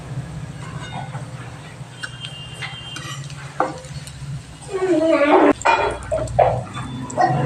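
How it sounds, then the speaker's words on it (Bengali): Potato chops (alur chop) frying in hot oil and lifted out one by one, a steady close sizzle that swells into louder bubbling bursts and clatter near the end, with background noise throughout. "ফ্রেন্ড দেখো এবার আমি চপগুলো তেলের মধ্যে থেকে তুলে নিচ্ছি"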